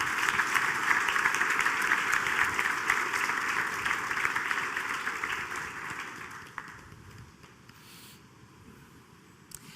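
A church congregation claps steadily together during a service, a dense, sustained wash of applause that holds strong and then gradually thins and fades toward the end.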